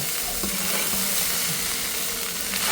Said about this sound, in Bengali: সকাল সকাল কয়টা বাদাম ভাজতেছি